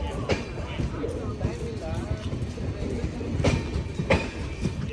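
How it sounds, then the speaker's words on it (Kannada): Rumbling noise of a departing Vande Bharat Express train from Mangalore to Goa, rhythmic clatter of wheels on rails, fairly close and steady, while people talk over it. "Vande Bharat train Mangalore to Goa Vande Bharat express"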